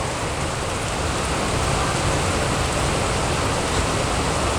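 Heavy rain pours steadily over Bangkok at the start of the rainy season, a dense, constant hiss of falling water filling the air without a break and with no voices.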